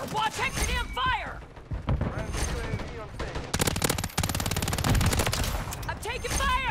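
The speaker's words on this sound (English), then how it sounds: "This SMG is just insane." Rapid bursts of WSP Swarm SMG fire in Modern Warfare 3 crackle through a multiplayer match, dense automatic volleys mixed with other gunfire while players shout over the action.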